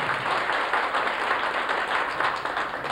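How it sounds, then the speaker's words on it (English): Steady, dense audience applause fills the hall at a 1997 sugar beet factory reunion in Paulding, Ohio, with even, continuous clapping throughout and no talk over it. "So let's give him a round of applause."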